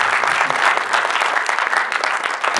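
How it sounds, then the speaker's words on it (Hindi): A dense burst of crowd clapping from the audience at an Iqbal Day conference at Alhamra Art Center, loud and close, continuous for a few seconds. "तालियां बजा सकते हैं, कसम से।"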